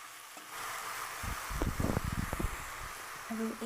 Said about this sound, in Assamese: মই এইখিনি শাকো ধুনীয়াকৈ ভাজি ল'ম